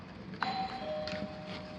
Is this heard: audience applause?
no